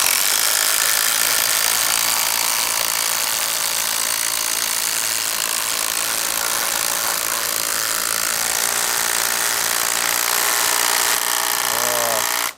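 Makita and Hikoki 12V impact drivers drive screws into wood side by side, a steady, loud, buzzing hammering rattle that runs continuously and cuts off abruptly at the end.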